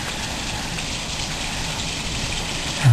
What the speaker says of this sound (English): would you believe how rainy it is. Really coming down.